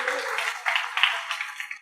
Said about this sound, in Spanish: Aplauda y dígale gloria a Dios al Señor.